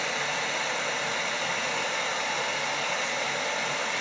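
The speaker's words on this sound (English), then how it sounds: "don't we have a heat gun that's very good for stripping off paint?" A heat gun stripping layers of maroon and lilac paint blows a steady, loud broadband rush of hot air, unbroken for the whole stretch with no talking.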